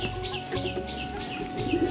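Madras pigeons, including a 12–13-year-old bird, coo in a home loft in a steady low murmur, with bright chirps and a faint hum in the background.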